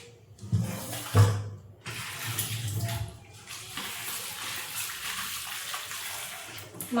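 Meat is washed under a running kitchen tap, a steady rush of water with splashing and a few soft knocks as the pieces are handled.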